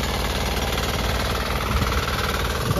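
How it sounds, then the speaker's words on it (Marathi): A tractor engine churning a flooded rice paddy into mud during traditional monsoon planting in Kolhapur, a loud steady rumbling drone with constant vibration, close and unbroken, no voices. "तर चिखलासाठी ट्रॅक्टर यूज करतो."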